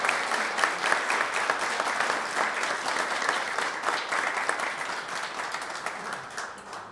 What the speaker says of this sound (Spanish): Démosle un aplauso al Señor por ellos.